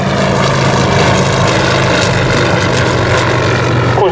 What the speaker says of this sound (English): It was designed around the revolutionary Pobjoy 7-cylinder geared radial.